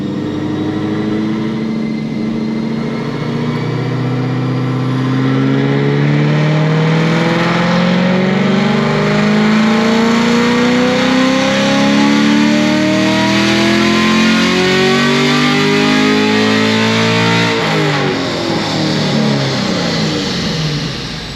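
A 2021 Camaro engine on a dyno, after head, cam and intake upgrades, revs through a long full-throttle pull, pitch climbing steadily for about seventeen seconds before dropping off, loud and close with no talking.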